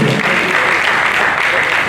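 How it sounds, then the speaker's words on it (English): Loud, dense applause from a conference audience welcoming a company CEO, a steady wash of many hands clapping close by with no gaps. "a round of applause for him"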